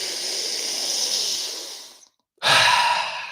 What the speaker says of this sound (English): Let's go for just 2 more breaths now.